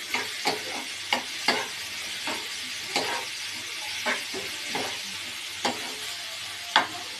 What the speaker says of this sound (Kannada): ರುಚಿಗೆ ತಕ್ಕಷ್ಟು ಖಾರದ ಪುಡಿ ಚೆನ್ನಾಗಿ ಮಿಕ್ಸ್ ಮಾಡಿ